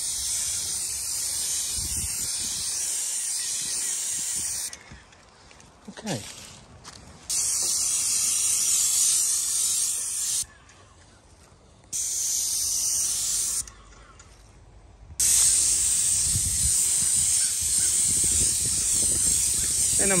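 An airless paint sprayer lays a thin coat on a wooden door outdoors, giving a loud, steady hiss in three long bursts broken by brief pauses, with no talk.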